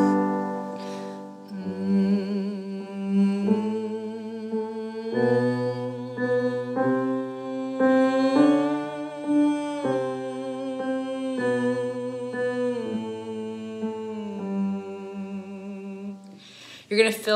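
A solo female singer performs an exaggerated vocal slide exercise for belting, sustained sung tones gliding and stepping between pitches with strong resonance, continuous and close for most of the passage.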